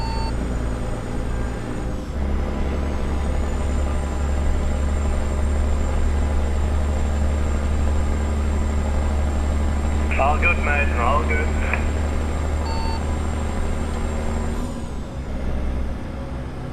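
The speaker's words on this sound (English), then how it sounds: "Are we happy with a bit of wind and truck sound, chat?" A steady low truck engine drone with wind noise inside a truck cab in American Truck Simulator, continuous and even, with someone talking over it and a short beeping burst partway through.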